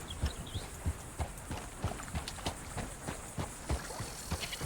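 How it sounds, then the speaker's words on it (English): Horse hooves walking in a video game while riding up to a bandit hideout, a steady rhythmic clip-clop of repeated hoofbeats at close range over a soft ambient background. "Park our horse right here."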